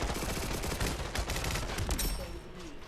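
Rapid P90 gunfire in the VR shooter Population: One, sustained bursts of close, loud shots running through the whole stretch with a brief easing near the end.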